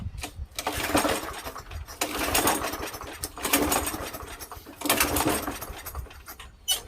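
Small gas lawn mower engine being pull-started, four repeated rough bursts of cranking and sputtering about a second long each, close and fairly loud, with no engine catching.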